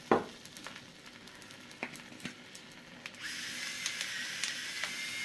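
An egg seasoned with salt and pepper fries in a pan for a breakfast sandwich, with a faint sizzle that swells into a steady hiss partway through, alongside scattered soft clicks of kitchen handling.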